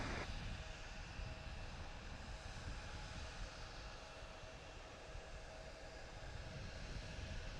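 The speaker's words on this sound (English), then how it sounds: "So that was a Diamond DA20 that just did the touch and go." Diamond DA20 light airplane doing a touch and go at Harrisburg airport, heard as a faint, distant, steady engine drone with a broad rushing hum that holds throughout.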